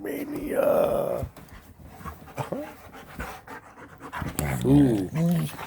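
A dog panting rapidly close by, with quick rhythmic breaths and a few whimpers, under a person's intermittent talk and exclamations.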